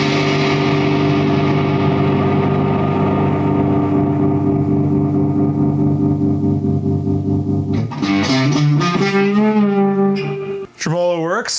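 Distorted electric guitar played through a rebuilt Vox AC30 amp with tremolo, sustained chords pulsing steadily before a burst of bent, wavering notes, loud and close.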